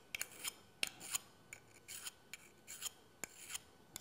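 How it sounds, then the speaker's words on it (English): A metal file rasps across a hand pruner blade at an angle, a series of short, crisp scraping strokes repeated in an uneven rhythm, close and moderately loud with no talking. "we'll take our metal file and we'll sharpen our blade"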